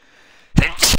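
One loud, close sneeze bursts out suddenly after near silence, a sharp explosive breath that trails into a brief noisy exhale.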